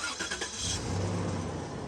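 A third-generation Toyota 4Runner engine cranking and catching, a brief close starter churn settling into a steady idle rumble.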